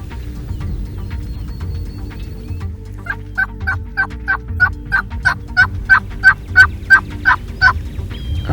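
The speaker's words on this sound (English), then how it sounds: "Gotta be a gobbler left, isn't it?" Wild Eastern turkeys in Missouri gobble repeatedly, a rapid series of rising, rattling calls at moderate distance that grow louder and more insistent, over a low outdoor rumble.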